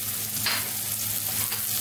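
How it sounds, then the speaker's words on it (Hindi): Onions, shallots, green chilies, coriander and cumin powder fry in a pan for sambar, giving a steady, close sizzle with a couple of brief scraping stirs and no talk. "थोड़ा सा भूनेंगे"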